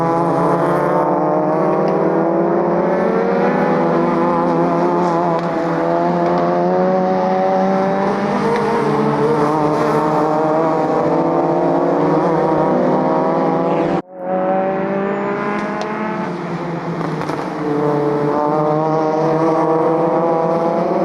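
Loud racing engines from Citroën Saxo and VW Golf race cars on a track, a sustained high-revving drone with shifting pitch and a brief cut near the middle before the roar resumes.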